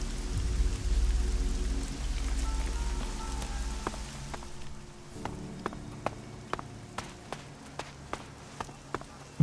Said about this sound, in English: At the moment it's raining, it's so beautiful.